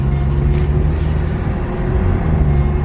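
A BMW fitted with a big turbo that is still slightly broken drives on a test drive, a loud, steady engine rumble with a low humming drone, heard from inside without speech.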